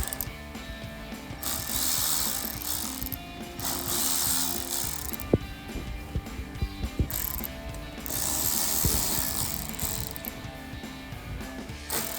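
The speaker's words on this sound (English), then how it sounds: "install a 90mm throttle body, 8mm socket. Gonna remove clamp first." A ratchet with an 8mm socket clicks in repeated bursts while loosening a clamp on the K&N air filter of a 2008-2012 Dodge Challenger V8, close and clear, with brief pauses and a few metallic knocks between runs.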